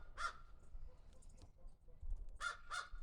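A pet crow caws loudly and close by, two short harsh calls at the start and then a quick run of several more near the end, with quiet background noise between them.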